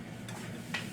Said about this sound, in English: Let's check on our saute.